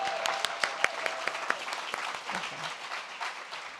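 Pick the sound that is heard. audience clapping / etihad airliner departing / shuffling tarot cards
audience clapping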